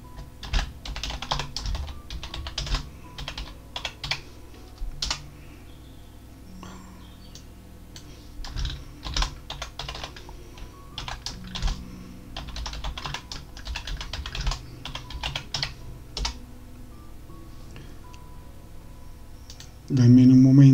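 Fingers tap a computer keyboard to enter a password in quick, irregular clicks near the microphone, with pauses between bursts over faint background murmur, and a short louder sound near the end.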